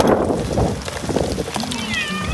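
A cat stranded during Hurricane Milton near Tampa meows repeatedly as it is rescued. The cries are short and fairly close, over background storm noise and bustle.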